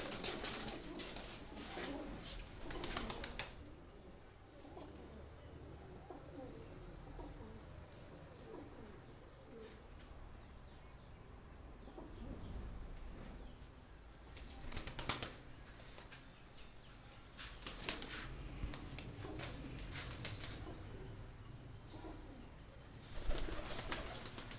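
Pigeons kept for sale in Gujranwala coo softly and steadily, with bursts of wing flapping and rustling near the start, around the middle and at the end.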